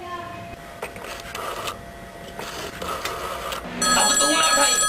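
A telephone rings at a police station in a comedy sketch from Faisalabad, Pakistan, with bright, repeated electronic ring tones cutting in and out among several people talking.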